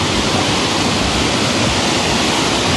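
A river flows in a steady, loud, unbroken rush of water that fills the whole stretch without pause.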